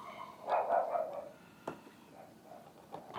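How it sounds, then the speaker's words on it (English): Dogs barking indoors at home, a few scattered barks and yips at moderate distance, fairly faint and intermittent over a quiet room. "You're gonna hear our dogs barking a lot, maybe in this video"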